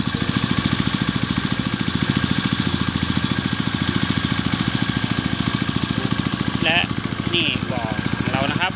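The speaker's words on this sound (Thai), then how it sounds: "ตอนนี้เราก็เริ่มสูบน้ำออกจากบ่อกันแล้วนะครับ นี่นนะครับ โดยใช้เครื่องสูบน้ำเบนซินขนาด2นิ้วนะครับ" A 2-inch petrol water pump runs steadily, draining a red-claw crayfish pond, its small engine chugging in an even, continuous drone with someone talking over it.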